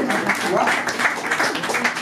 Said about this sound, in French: Allez, on applaudit Maurice, mais merci.